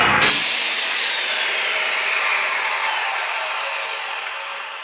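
Wood being hand-cut for a fishing boat's floor decks: a loud, continuous rasping saw stroke that starts abruptly and carries on close and steady, without talk.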